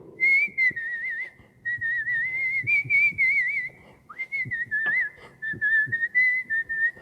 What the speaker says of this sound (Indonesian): saya itu orang yang suka bersiul.